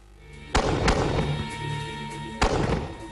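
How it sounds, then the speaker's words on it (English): A futuristic artillery weapon fires two sharp, loud blasts about two seconds apart, each followed by a rumbling tail over a noisy background. "I believe it's the future of artillery"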